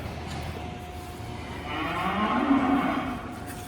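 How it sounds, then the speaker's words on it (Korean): Calves on a cattle farm moo in the early evening, giving a long, drawn-out low call that swells in the middle. It stands out over a steady background of barn noise, and no one speaks. "송아지들이 아마 지금 시각이 오후 6시 반 정도 되니까 조금 배가 고픈 모양이에요"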